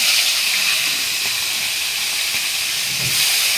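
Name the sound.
magur catfish sizzling as it's added to hot oil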